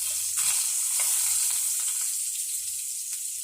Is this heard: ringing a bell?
no